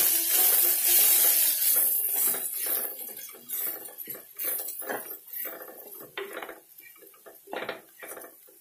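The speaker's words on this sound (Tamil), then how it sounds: "இது வந்து சாம்பார் பவுடர் தனியா பவுடர் நல்லா மிக்ஸ் பண்ணிவிட்டு" Sambar powder and coriander powder being stirred into a pan for fenugreek kuzhambu, with a spoon clinking and scraping against the metal in irregular strokes after a brief opening sizzle, moderately close and without speech.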